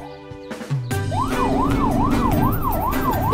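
A cartoon ambulance siren wails, rising and falling in a steady, looping pattern, loud and close, after a few brief clattering noises at the start.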